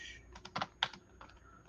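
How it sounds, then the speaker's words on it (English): Keys on a computer keyboard tapped in a short irregular burst of clicks, close and fairly quiet, with no talking. "Let me type."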